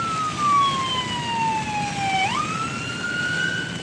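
An emergency vehicle siren wails alone at moderate volume, its pitch sliding down slowly, then jumping back up partway through.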